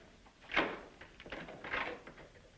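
A closet door is shut and locked from the outside, giving a few close wooden knocks and clunks of latch and handle, with no talk.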